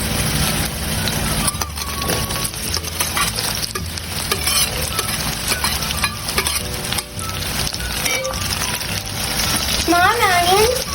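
Onions tipped into hot oil with golden-browned garlic for a Sundakkai Vathal Kuzhambu, giving a loud, steady sizzle with stirring clatter throughout and no talking.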